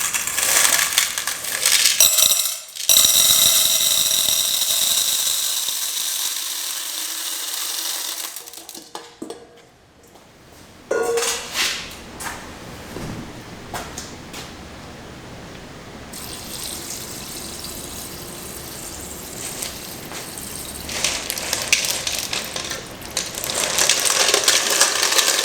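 Aggregate, 2 liters of water and 5 kilograms of steel balls are tipped into a test jar, making a loud sustained rattling pour, a brief pause, then further clattering, gushing and settling noises throughout.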